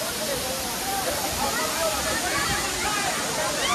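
Vajreshwari Bokadkada waterfall roaring as a loud, continuous broadband rush of falling water, close and steady throughout, with no talking.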